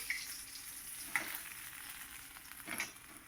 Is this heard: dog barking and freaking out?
no